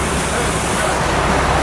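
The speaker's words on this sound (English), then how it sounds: "Water drips off the cogs." Rainwater from the previous night drips and trickles off the cogs of a canal lock gate, a dense, steady wash of water close by with no break over the short stretch.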